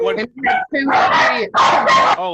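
A pet dog barks in several sharp, loud yaps close by, overlapping with a person's brief exclamation.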